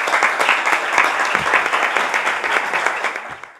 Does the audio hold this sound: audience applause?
yes